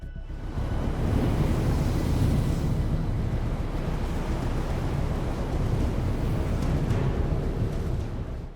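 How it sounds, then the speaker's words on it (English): Sea waves crash against a seawall and rebound in a continuous, loud, rumbling roar with no pauses and no voices. "the waves crash into the seawall and bounce back, crossing each other into rare cross-shaped waves"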